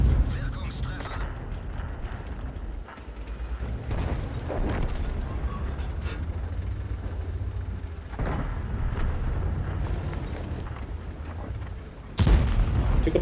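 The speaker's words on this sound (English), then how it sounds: "Took a blind shot at the Grill 15" A Leopard 1 tank fires its main gun in World of Tanks: heavy booming cannon shots, including one sharp blast near the end, ring out over rumbling engine and battle ambience, with someone talking over parts of it.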